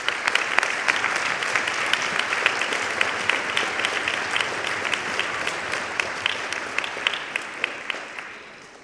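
Sustained applause from an audience at a junior high school band winter concert, steady and dense for about eight seconds before tapering off at the end, with no talk over it.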